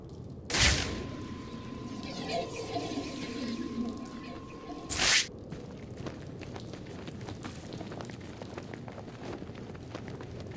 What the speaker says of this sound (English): The gunshot came from the bell tower.